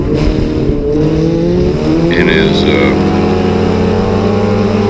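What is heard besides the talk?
loud car engine with straight exhaust manifold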